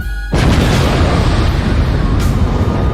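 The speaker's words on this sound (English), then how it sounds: "It's my explosion on deck." A loud explosion sound effect bursts in after a brief quiet start, a deep booming blast that rumbles on steadily with a second flare of crackle near the end.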